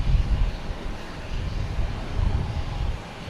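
A Lufthansa airliner at Boston Logan Airport gives off a steady, broad jet roar, heavy in the low end and fairly distant, with wind buffeting the microphone throughout.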